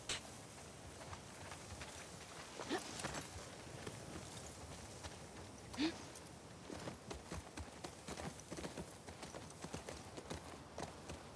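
Horse hooves clip-clop at a steady walking pace in The Last of Us Part II, a continuous rhythmic stream of moderate, fairly close hoofbeats with a couple of louder knocks.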